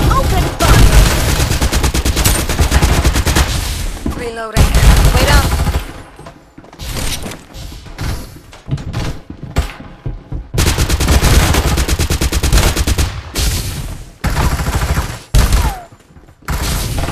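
Gunfire exchange in the mobile battle-royale shooter Farlight 84: loud rapid automatic bursts and single shots in dense clusters, with short pauses between volleys and a few heavier booms.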